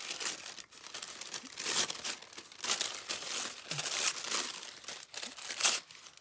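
Tissue paper crinkles and rustles in close, irregular bursts as it is handled and torn for a scrapbook-style paper craft page, with no talk.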